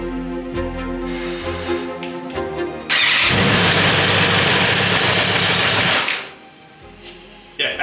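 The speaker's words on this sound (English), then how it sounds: "We've got a running engine!" A BMW S1000RR motorcycle engine, bought as the cheapest example and rough-sounding, cranks and catches, then runs at a loud steady roar for about three seconds before cutting out.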